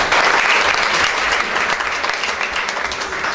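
Steady, dense audience applause at a hospital's 25th anniversary celebration, filling the whole moment without a break and holding at an even level throughout.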